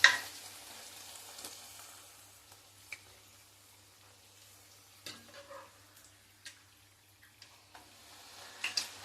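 Puris frying in hot oil, a steady soft sizzle close by with occasional light taps and clicks of a utensil, quiet throughout and no talking.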